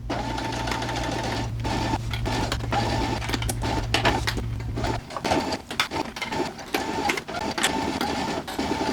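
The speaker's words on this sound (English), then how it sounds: "we're going to take this over to our sewing machine and we're going to sew at a 3/8 seam allowance along this U shape curve" A sewing machine stitches a U-shaped curved seam at a 3/8 inch seam allowance on fabric for kids' shorts. A steady mechanical whir runs for about five seconds, then continues more unevenly with backstitching clicks and handling noises. No one speaks.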